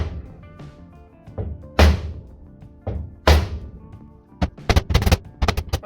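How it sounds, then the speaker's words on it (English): Sharp metallic knocks of a socket driving a seal into a Land Rover LR3 steering rack during a rebuild, a few spaced blows and then a quicker burst of hits, loud and close in a quiet workshop. "I've found sometimes just a socket of about the right size is quite handy for doing that initial knocking"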